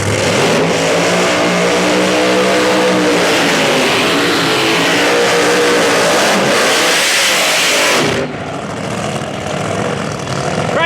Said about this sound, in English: With a two-step burnout.